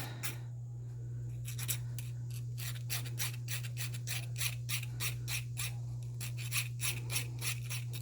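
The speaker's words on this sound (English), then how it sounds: "Just make sure to use the appropriate file for the shape that you need to be filing." A metal file rasps along an open-backed bezel in a rhythmic series of short scraping strokes, close and crisp over a steady low electrical hum.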